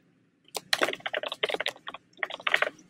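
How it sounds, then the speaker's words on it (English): Fingers type in fast uneven bursts on a computer keyboard, the close, crisp key clicks pausing briefly between words. "I feel like I'm typing so slow."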